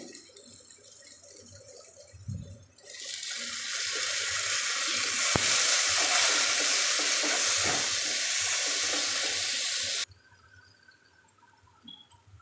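Kalmi greens dropped onto onions fried until reddish with chopped garlic, setting off a loud, steady sizzle and hiss that swells suddenly and holds for several seconds before cutting off, with faint stirring scrapes and no talking.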